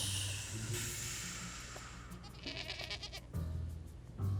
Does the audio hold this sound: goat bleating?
yes